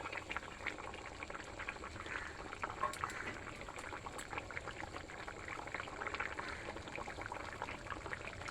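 Egg curry with fried dumplings and a pinch of garam masala bubbles steadily in a pot, a dense, even simmering hiss with small pops throughout, close and moderate in volume, no voices.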